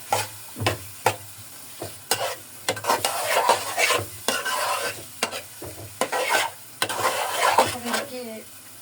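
Rohu fish pieces with radish, beans and cauliflower being stirred in a pan, repeated loud spatula scrapes and metallic clanks over a crackling sizzle, close and busy.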